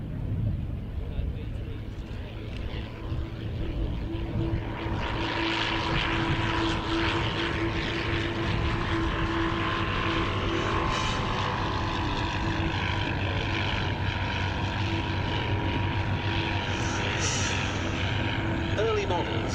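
Royal Aircraft Factory B.E.2e reproduction World War I biplane flying at an airshow, its propeller engine droning steadily and loudly throughout, with a faint commentary voice underneath.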